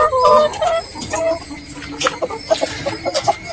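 Backyard laying hens cluck in short, irregular bursts of clucks and chirps, close by, over a low ambient background.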